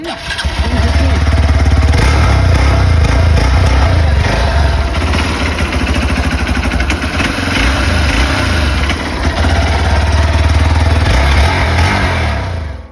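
Exhaust note of a Hero Xpulse Pro 200 4V motorcycle with a four-valve engine, running loud and close with a steady, deep, bassy idle and slight revving throughout, no talking.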